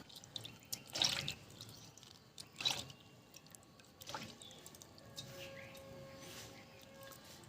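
Lemon juice drips into hot water in a few separate wet plops spread over several seconds, quiet and close, with faint background noise between the drops.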